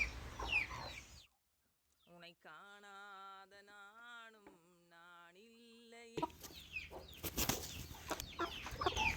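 A sick chicken sitting inside a metal pot gives a series of drawn-out, nasal clucks and calls, close and fairly clear, with scuffling and handling noise before and after.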